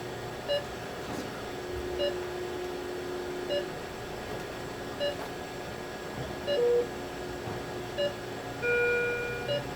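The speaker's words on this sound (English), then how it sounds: "Just get an alarm for low pulse." A Philips MMS patient monitor sounds its low pulse alarm at 40 beats per minute, a repeating pattern of short, evenly spaced electronic beeps over a steady hum of room noise.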